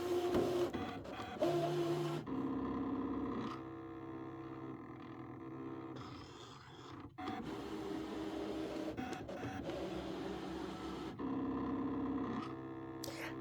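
An electronic cutting machine with an auto blade slices fabric laid on a fabric mat, giving a steady mechanical whir and hum with shifting tones and brief pauses as the carriage moves, close and alone.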